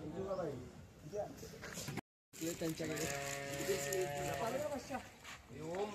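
Several goats bleat repeatedly nearby, wavering cries overlapping one another, with a short silent gap partway through.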